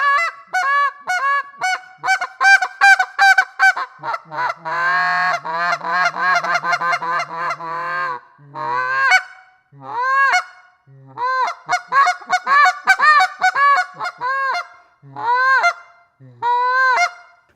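A handheld goose call blown to imitate goose honks, giving long runs of loud, close, rapid honks and clucks in bursts separated by brief pauses, with no talking.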